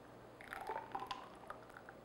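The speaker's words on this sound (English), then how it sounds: "And then just pour it into your molds" A fruit mixture poured into popsicle molds, soft wet splashing and dripping with small squishy bursts, close and quiet with no talk.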